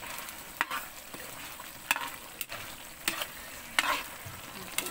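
Chicken kaldereta sizzles in a pan under a steady frying hiss, with a spoon scraping and stirring in regular sharp strokes about once a second, close and clear with no talk.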